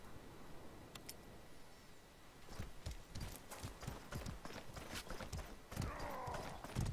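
Horse hooves clip-clop through the medieval combat game Mordhau, a run of quick, moderately near hoof strikes that grows louder and busier in the second half over a steady background din.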